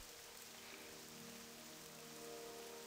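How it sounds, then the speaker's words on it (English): Rain falls steadily outdoors after easing off from a heavy downpour: a faint, continuous hiss of drops on surfaces with no speech and no clear breaks. "the rain has died down from the heavy rain to the normal rain"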